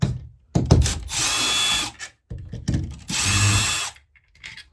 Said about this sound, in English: And now you need your impact driver, or you can use a screwdriver as well,